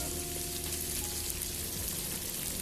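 Onion and water spinach stalks stir-fry in a wok for village-style fried rice, giving a steady, dense sizzle throughout with faint scraping under it and no voices.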